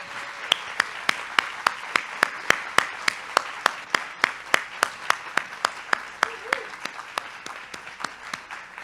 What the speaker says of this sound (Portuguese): Palmas para o Bispo.